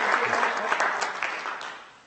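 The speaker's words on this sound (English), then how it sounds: "You can clap him." An audience at a rowing talk applauds speaker Dan Rook, a dense burst of many hands clapping that fills the room and then fades slightly toward the end, with no talk over it.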